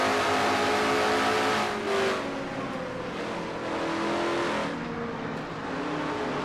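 A race car from a 1992–93 stock car series roars at speed on track, engine note steady and loud with shifting pitch as it runs through the turns, continuous for several seconds with no talk.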